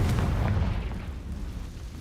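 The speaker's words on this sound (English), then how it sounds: "Confringo!" A Confringo spell explodes in the video game Hogwarts Legacy, a loud, dense, rumbling blast that fills the whole clip and slowly fades over about two seconds, with no voices.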